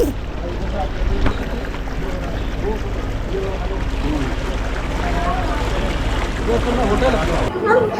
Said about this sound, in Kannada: ನಾವು ಹೋಗ್ತಾ ಇರೋದು ನಾರ್ಮಲ್ ಬೋಟಲ್ಲಿ